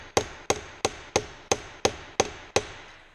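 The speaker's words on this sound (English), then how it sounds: "It's important to keep the face of the flat hammer flat too." A flat hammer pounds a sheet metal seam in eight sharp, evenly spaced metallic blows with short ringing decay, close and loud, with no talk.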